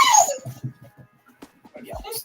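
A stray dog in the Elder Scrolls Online video game gives a high, falling whimper, followed by a few softer, broken whines and yips at close range.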